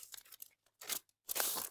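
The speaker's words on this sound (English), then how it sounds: "if you cut an envelope there" Paper envelope being cut or torn in short bursts: a few soft crinkly snips, a pause, then a longer loud tearing rasp and a final sustained rip, close and alone with no talk.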